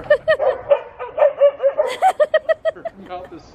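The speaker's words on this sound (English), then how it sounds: "They're like, where's the neighbor dog?" A neighbor's dog barks in a quick series of sharp, loud, close yaps and whimpers, about a dozen in a rhythmic run.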